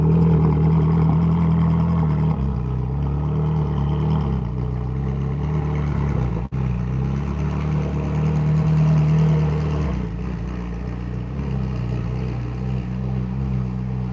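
A Ferrari's engine idles steadily as the car reverses slowly, a low continuous rumble heard close up that shifts slightly partway through, with a brief sharp knock in the middle.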